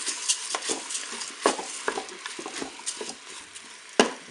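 A spoon scraping and stirring rice with mussels and peppers inside a Cookeo electric pot, irregular soft clinks and scrapes at close range, with no one speaking.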